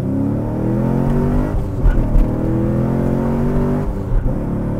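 Turbocharged Miata launching hard with launch control, its engine note rising steadily through a loud, close acceleration run with dense harmonic drone and brief rough bursts, no voices over it.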